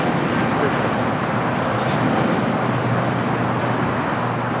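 A Spirit Airlines jet passes at LAX with a loud, broad, steady roar that fills the whole scene, while people nearby talk over it.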